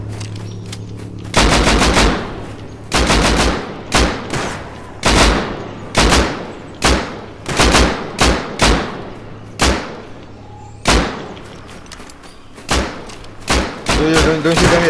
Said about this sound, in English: He shooting at us?